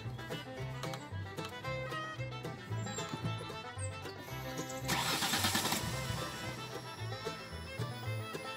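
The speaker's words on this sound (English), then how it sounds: "start the engine" A Jaguar X-Type car engine cranks and catches after a fuel filter change, settling into a steady idle with a surge of noise midway, fairly close.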